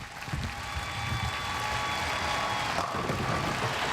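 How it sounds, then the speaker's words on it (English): Applause and cheering from a bowling alley crowd at the women's US Open championship match, a steady distant wash of clapping over room noise. "Crowd picking up behind her."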